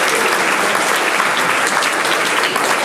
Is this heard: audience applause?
yes